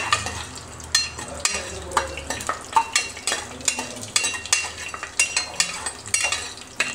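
Chana dal frying in hot oil while a spoon stirs it in quick, regular strokes, each scrape and light metal clink rising over a continuous close sizzle.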